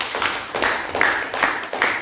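A church congregation claps together for Jesus during a sermon, a roomful of hands beating in a steady rhythm of about five sharp strokes over a couple of seconds.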